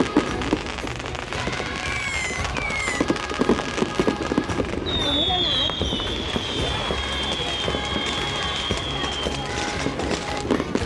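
Fireworks and firecrackers bursting during Chinese New Year celebrations in Wenzhou, China, with dense continuous crackling and pops, a few whistling rockets rising, and a crowd noisy throughout.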